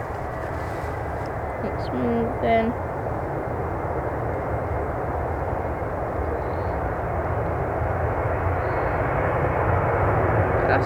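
An easyJet Boeing 737-800, about 20 years old, spools up its jet engines on the runway at Manchester Airport: a steady, broad roar that holds loud and even throughout, with a brief spoken remark near the start.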